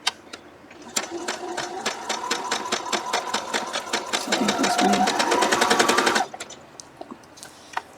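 A sewing machine stitching a quilt block runs close and loud in a steady rapid rhythm, speeding into a denser buzz before stopping abruptly, with a few isolated clicks afterward and no talking.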